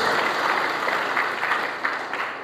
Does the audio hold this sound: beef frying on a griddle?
no